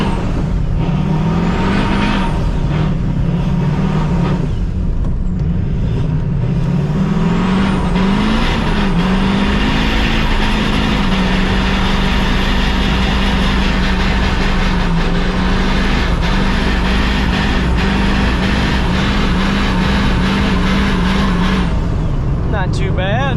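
Engine of a SEMA show truck drifting through corners, a loud steady roar with rising and falling revs throughout, sustained and close, with people talking over it.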